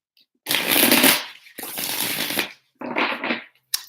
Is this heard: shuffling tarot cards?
yes